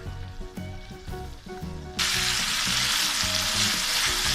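Mutton keema frying in a karahi over high heat, a loud steady sizzle that jumps up sharply partway through after quieter crackling and stirring, with no voices.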